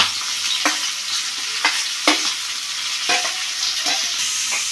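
Onions and green chillies fry in a pan with a continuous bright sizzle, broken by several sharp scrapes and clacks of a spoon stirring, close and fairly loud with no talking.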